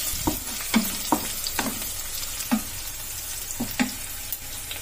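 Onion and crushed garlic fry in a pan, a steady close sizzle with a spoon stirring and scraping in regular knocks and swishes about every half second.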